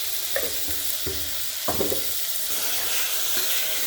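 Tomatoes sauté with a little salt in a pan, giving a continuous soft sizzle punctuated by a few light utensil knocks against the pan, close and fairly even in level.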